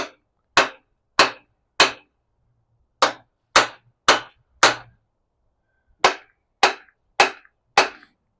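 Sharp, evenly spaced blows from a neoprene body hammer ring out in bursts during a Vortec 350 engine teardown, about a dozen strikes in all with short pauses between groups, close and crisp.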